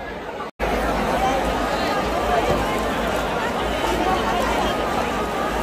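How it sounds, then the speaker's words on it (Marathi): A huge, packed crowd at the 2024 Chintamani arrival procession in Chinchpokli keeps up a dense, continuous roar of chatter and shouting, close and loud, broken by one very brief dropout near the start. "एवढी गर्दी आहे, प्रचंड गर्दी."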